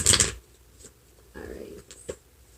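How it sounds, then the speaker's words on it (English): A deck of tarot cards is shuffled close by, giving a brief crisp riffle followed by a few softer flicks and taps over a couple of seconds. "I need to shuffle."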